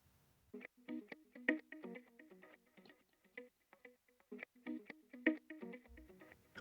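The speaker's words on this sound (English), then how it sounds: "this is what the guitar loop sounds on its own" A funky, plucky tech house guitar loop of short, choppy picked notes with a processed, effected tone, repeating in a steady groove.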